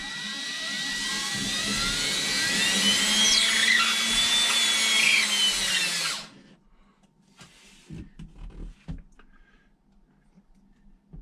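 Power drill boring holes with a 3/16 inch bit in a pantry, a steady high whining spin for about six seconds that then stops abruptly, followed by faint handling clicks and knocks.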